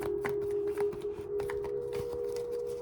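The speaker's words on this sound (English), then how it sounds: "One last shuffle." Tarot cards being shuffled by hand, a series of quick papery riffles and flicks, close and clear over a steady faint background hum.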